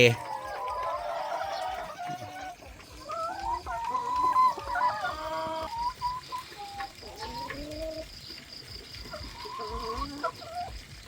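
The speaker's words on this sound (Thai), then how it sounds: "ไก่ไข่" Laying hens clucking and calling on a rural Thai farm in the morning, a steady run of nearby bird vocalizations with rooster-like cackles throughout, with some background chatter.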